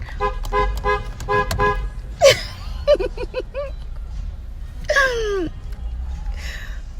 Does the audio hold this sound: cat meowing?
no